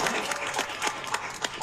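Applause from a crowd in a Korean drama scene: a dense, moderately quiet patter of many hands clapping steadily throughout the short stretch.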